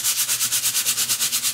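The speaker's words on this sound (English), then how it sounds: "I'm going to go with that and use the sanding block and take off some color along the edges" A sanding block rubs back and forth along cardstock edges to wear off the color: quick, even, close-up scratchy strokes, about a dozen in under two seconds.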